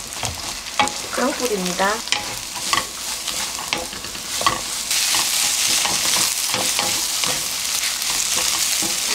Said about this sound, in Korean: 바로 섞어서 다 볶으시면 돼요